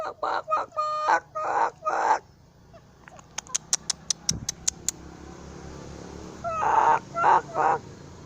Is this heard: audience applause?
no